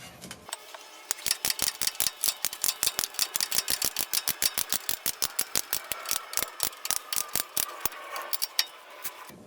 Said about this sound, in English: finish it off with your socket wrench